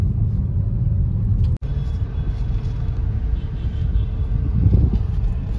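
A traffic jam in Amrapur, with a tempo truck carrying a Ganpati idol nearby: a steady low rumble of idling and creeping vehicles, with one brief dropout and a swelling engine noise near the end.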